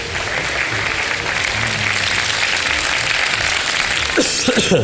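Steady applause from a sizable television studio audience, dense clapping that continues throughout without pause.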